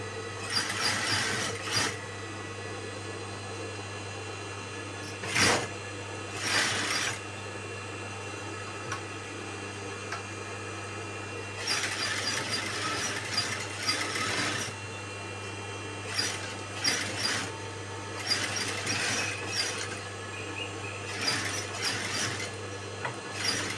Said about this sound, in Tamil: இந்த துணிங்கிறதுனால கொஞ்சம் மெல்ல தைக்க வேண்டியதாக இருக்கும்.